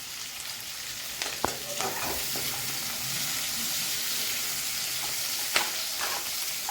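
Rice and paneer pulav is stirred in a pan, giving a continuous close sizzle with scraping spoon strokes and a few sharper knocks against the pan.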